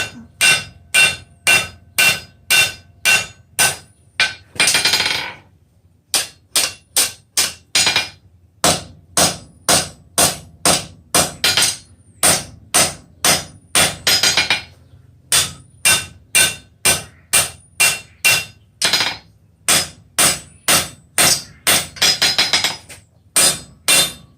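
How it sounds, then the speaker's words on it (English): Rapid, steady hammer blows ring on hot steel on an anvil in bursts of a dozen or more strikes, with brief pauses between runs, loud and close. "Hammer this joint a little bit."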